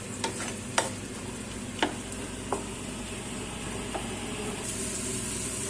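Corn kernels with turmeric powder stir-fried in a pan, a steady close sizzle with a few sharp scrapes of the spatula, no talking.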